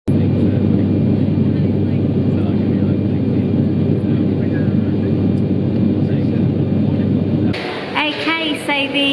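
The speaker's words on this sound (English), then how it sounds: "So it's about an hour and 10-minute flight now to New Delhi." Steady loud cabin drone from an IndiGo airliner cruising to New Delhi, a dense low engine roar that fills the clip, then drops abruptly near the end as brighter chatter and clinking emerge.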